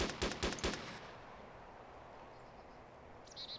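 Gunfire in Arma 2's DayZ mod: a quick burst of three or four sharp automatic shots at the start, followed by a quiet, hissy outdoor ambience with faint distant sounds near the end.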